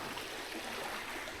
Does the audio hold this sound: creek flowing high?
yes